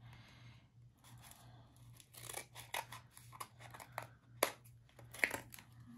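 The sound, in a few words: trimming a picture with scissors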